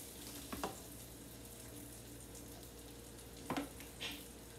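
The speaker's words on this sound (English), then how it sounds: "Waiting for the dogs to get a little crispy." Hot dogs fry in a pan and give off a faint, steady sizzle, with a couple of brief clatters from stirring or utensils.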